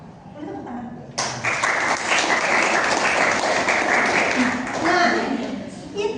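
An audience at a discussion on specific learning disorder breaks into sustained applause after a short lead-in, a dense wash of clapping that carries on to the end, with voices mixed in.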